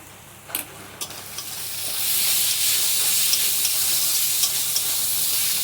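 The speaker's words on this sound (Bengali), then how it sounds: "একটু আদা রসুন বাটা দিয়ে দিচ্ছি খুব বেশি না হাফ চামচ দিয়ে দিলাম দিয়ে ভালো করে ভেজে নেবো" Ginger-garlic paste and tomato paste fry in a pan with a steady hiss that swells loud after a couple of seconds, broken by a few sharp spatula scrapes and taps; no one speaks.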